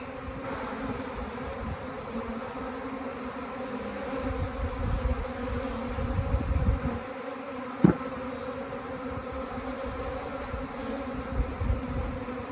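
Honey bees at an open hive, with a drone-laying queen or laying workers, hum in a dense, continuous buzz close by, with a brief knock partway through and no voices.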